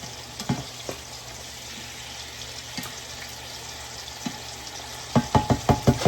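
Galunggong fish frying in hot oil gives a steady low sizzle with scattered crackles and pops, ending in a run of sharper, louder spattering bursts near the close.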